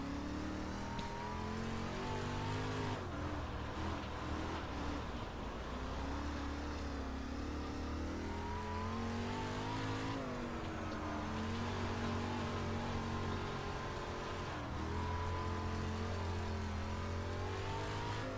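A sprint car or late model lapping the Kokomo dirt oval in the iRacing sim, its engine droning steadily and loud throughout with continuous shifting pitch as it works around the track, with no talk.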